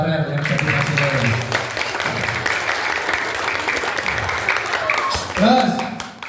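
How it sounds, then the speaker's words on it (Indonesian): Classroom applause for Farel, a primary school pupil, at an Isra' Mi'raj school event, a steady burst of many hands clapping for about five seconds with voices underneath, then a teacher's voice rising as it fades. "Tepuk tangan buat Farel yang jadi masinis."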